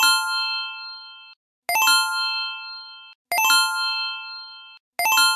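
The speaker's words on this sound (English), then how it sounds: "when you load up the main dashboard, or really any of the page settings, this really obnoxious chime plays" Notification chime from a software dashboard, a bright, clean metallic ding that repeats four times at regular intervals, each tone ringing out and then stopping sharply before the next.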